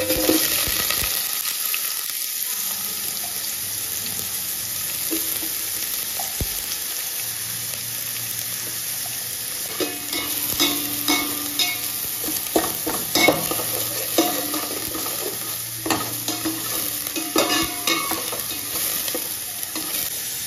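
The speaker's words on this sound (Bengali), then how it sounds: "এবার আমাদের যে পেঁয়াজটা বাকি ছিল, সেই পেঁয়াজটা আমি এবার এই গ্যাসের ফ্লেমে ভেজে নেব" Onion frying in a pan over a gas flame, a dense constant sizzle broken by repeated stirring scrapes and clinks, close and loud, with a low hum running underneath.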